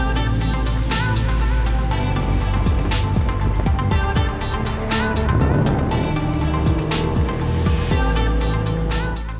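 A car driving along the road toward the Brands Hatch circuit gives a loud, steady engine drone throughout, with music-like tonal layers over the continuous road noise.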